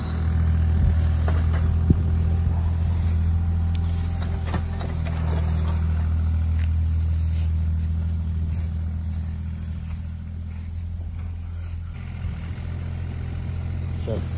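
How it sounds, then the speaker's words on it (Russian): Small excavator working close by, digging a trench for a pipe on a garden plot, with a loud, steady diesel drone, deep humming harmonics and occasional sharp knocks and clanks. "Сегодня загнал маленький экскаватор, чтобы положить трубу, на траншею прокопать, да подровнять чуть-чуть участок."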